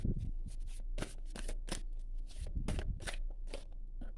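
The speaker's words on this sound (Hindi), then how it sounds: "तो मैं यहाँ से भी कुछ कार्ड्स लेना चाहूँगी।" Oracle cards being shuffled during a card reading: a steady run of crisp riffling bursts and soft slaps, close and fairly quiet, with no talking.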